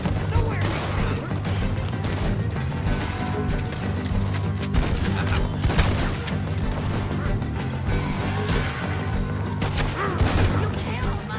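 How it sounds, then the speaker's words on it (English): Gunfight in the Western video game Red Dead Redemption 2, with dense, rapid gunfire and crashing impacts in close, overlapping bursts throughout, along with some voices. "Another gunfight."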